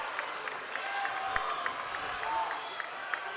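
A crowd at a high school basketball game applauds and cheers with steady, moderately distant clapping, while a commentator's voice talks over it.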